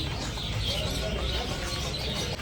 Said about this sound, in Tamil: இது வந்து குருவி கடை.